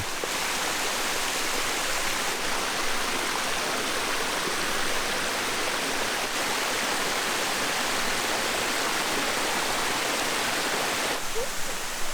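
Mountain river near Tuscan hot springs in Italy, flowing as a steady, loud, broadband rush of water throughout, with no voices or other sounds.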